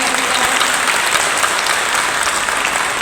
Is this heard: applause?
yes